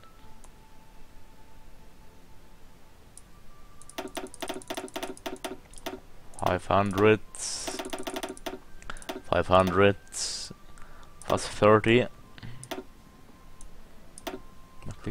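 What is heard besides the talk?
rapid mouse clicking while playing Hearts of Iron IV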